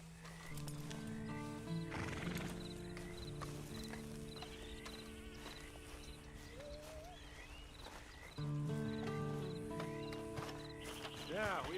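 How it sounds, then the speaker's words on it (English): Horse from the video game Red Dead Redemption II neighs and whinnies several times while hooves clip-clop steadily, set against a game music bed with voices talking over it. "And you better get on this horse."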